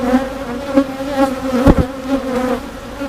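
Honeybee swarm buzzing up close, a dense steady hum of many wings with bees passing near, loud and continuous with no talking.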